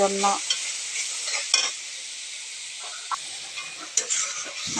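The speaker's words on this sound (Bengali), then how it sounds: "শুধু ঢেঁড়স ভাজি করছি" Sliced okra frying in a pan, a bright steady sizzle with intermittent scrapes and stirring clatter, close and alone without talk.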